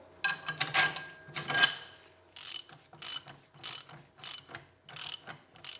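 A ratchet tightens the rear leaf spring shackle hardware on a 1980-1996 Ford Bronco or F150, heard as a few longer clicking runs followed by a series of short, evenly spaced ratcheting strokes, close and alone.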